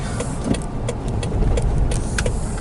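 A car pulls in and parks outside a classic car shop, its engine running steadily at close range with a low rumble and no talk.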